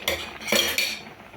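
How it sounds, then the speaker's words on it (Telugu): A spoon scraping and clinking against a dish holding pulihora tamarind rice: a few quick metallic taps close by over about a second, with no talking. "మార్నింగ్ పులిహోర కలిపినా కదా, అది స్పూన్ కునిందండి."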